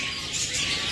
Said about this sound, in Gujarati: જો પોપટ